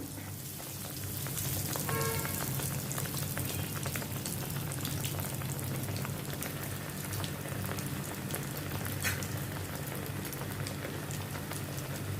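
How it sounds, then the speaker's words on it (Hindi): Stuffed bread pockets fry in hot oil in a kadhai, giving a steady, dense crackling sizzle that fills the whole stretch without letting up, with no talking. "कढ़ाई में ऑयल गरम हो गया। अभी इनको अभी मैं फ्राई करती हूँ।"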